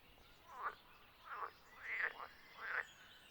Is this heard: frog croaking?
yes